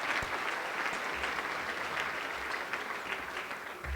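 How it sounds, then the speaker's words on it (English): An audience at a spring general assembly applauds retired employees, faculty and staff with a steady, dense round of clapping that fills the room and holds throughout. "Let's give them a round of applause to thank them for being here today."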